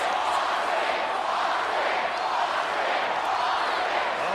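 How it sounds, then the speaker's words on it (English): A large wrestling arena crowd roars and chants for Stone Cold Steve Austin, a dense, steady wall of cheering voices that stays loud and unbroken throughout. "listen to this crowd chanting for the new WWF Champion, Stone Cold Steve Austin"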